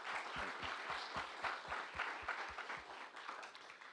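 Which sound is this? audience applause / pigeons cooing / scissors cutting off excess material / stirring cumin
audience applause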